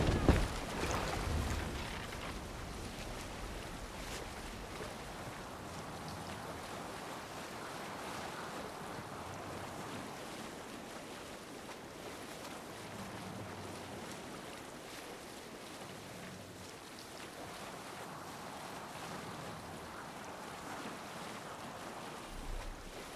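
A Viking longship under sail on the ocean in Assassin's Creed Valhalla, with a steady wash of waves and wind rushing around the hull, continuous and fairly loud and alone throughout.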